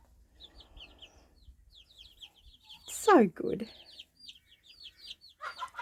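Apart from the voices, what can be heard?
mother hen clucking to her chicks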